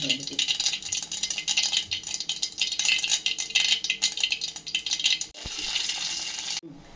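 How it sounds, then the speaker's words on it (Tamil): Mustard seeds, dried red chillies and curry leaves spluttering and crackling in hot oil in a small tempering pan for eggplant masiyal, a dense sizzling rattle running steadily close up before cutting out near the end. "கருவேப்பிலை, கடுகு நல்லா பொரிஞ்ச உடனே இதை போடணும்."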